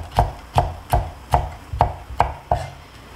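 Knife julienning strips of cucumber peel on a cutting board for Korean-style Chinese yangjangpi prep, seven crisp, evenly spaced chops about every half second, close and clear with no talking.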